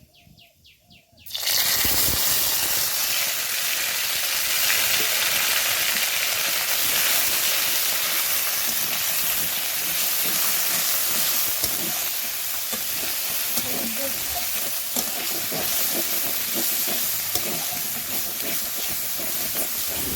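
A dried red chilli and black cumin seeds drop into hot oil in a kadai, setting off a sudden loud, sustained sizzle that crackles on for many seconds after a quiet start.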